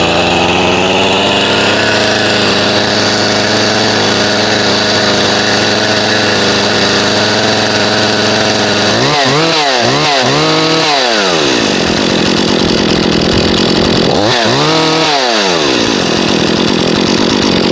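A Solo by AL-KO 6656 chainsaw engine running loud and close, holding a steady high whine before being revved sharply twice in rising and falling bursts, with no talking.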